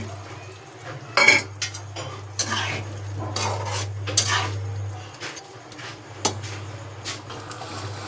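Pakoras dropped one by one into a pan of simmering spiced gravy, with several clinks and knocks of a utensil against the pan over a low steady hum.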